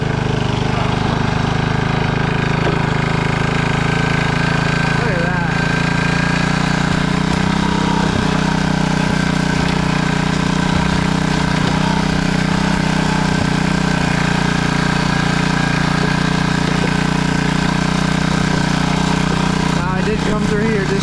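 A small steam roller's engine runs loud and close in a steady, unbroken drone the whole time, with a rumbling low end and faint clanks and shifts now and then.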